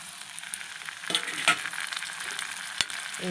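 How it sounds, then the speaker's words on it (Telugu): Chopped tomato fries in a pan of oil for an egg curry, a soft steady sizzle with a few sharp crackles and the scrape of stirring, close and fairly quiet with no talking. "బాగా వేగనివ్వండి"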